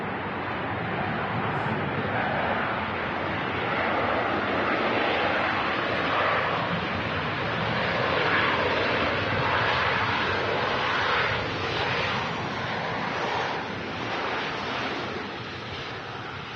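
A Ryanair jet airliner passes at Los Angeles International Airport, a loud, sustained engine roar that swells and fades slightly, with wind noise throughout.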